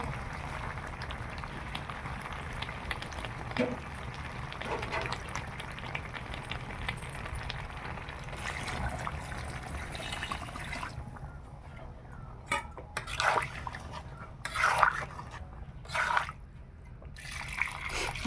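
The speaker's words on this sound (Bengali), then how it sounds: "এবারে জল দিব" Water pours in a steady, soft trickle into a pot of braised meat curry on a village kitchen fire, a continuous wash of liquid noise with a few louder splashy surges near the end.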